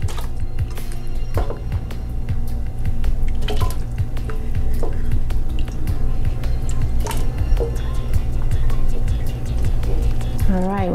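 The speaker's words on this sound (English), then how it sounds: "just about done placing all our potatoes in the pot" Cut potatoes are dropped one after another into a pot of cold water for a Chamorro chicken curry. They make sharp drips and small splashes in an irregular rhythm, close by, while someone talks.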